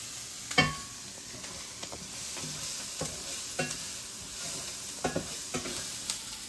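Onions and peppers sautéing in a pan, a low sizzle broken by repeated scraping strokes of a stirring utensil every second or so, close and moderately quiet.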